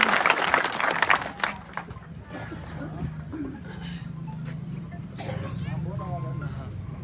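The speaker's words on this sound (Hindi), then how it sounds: "जोरदार तालियों से स्वागत" Loud clapping from a large crowd at an outdoor political rally welcomes an engineer speaker, strongest in the first second or so, then fading into crowd murmur and scattered voices.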